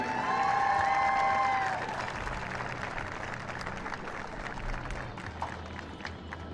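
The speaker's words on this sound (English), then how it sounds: "And can I get one last round of applause for our queen and king?" Audience clapping and cheering at a 2018 college homecoming coronation for the queen and king, held at a football game, loudest at the start with a whistle, then settling into a steady, slightly distant roar of applause.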